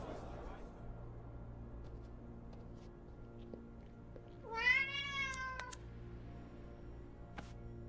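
A single cat meow with a rising, then falling tone rises clearly in the Alfred Hitchcock Vertigo video game, heard over a quiet, hushed background hum.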